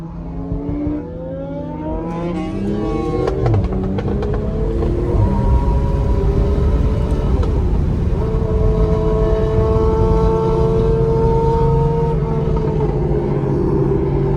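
A flame-spitting motorcycle cruises with its exhaust popping, loud and close: a rumbling engine rises and falls through gear changes, with scattered sharp crackles and pops, and no talk.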